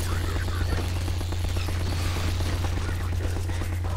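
Dense, continuous gunfire from Half-Life 2 under a steady low hum, loud and close throughout with no clear gaps.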